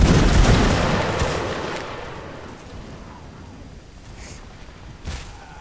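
A musket volley fires in the video game Mount and Blade: Napoleonic Wars during a line battle. A loud, crackling burst of many near-simultaneous shots rolls off into a fading rumble, followed by a single fainter shot a few seconds later.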